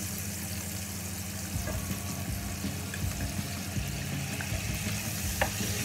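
Anchovies sauté in hot olive oil, giving a steady, close sizzle with faint crackles and occasional soft stirring scrapes throughout, without talk.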